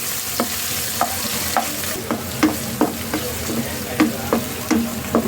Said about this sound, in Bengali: আমার মশলাটা একটু ভাজা হোক, কাঁচা গন্ধটা চলে যাক